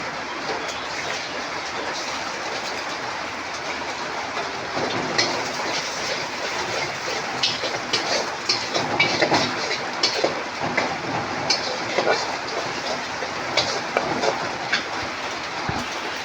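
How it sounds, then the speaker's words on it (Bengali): An egg sizzles as it fries in a pan with lightly fried onion and a dried chili. The crackling is continuous and close for about sixteen seconds, with no talking. "এখন একটা ডিম ফাটিয়ে দেবো"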